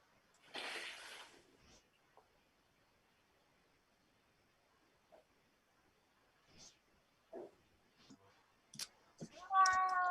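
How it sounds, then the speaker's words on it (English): A house cat meows once near the start, then scattered faint clicks and small noises follow, ending in a brief louder voiced sound. "Craig's having cat issues"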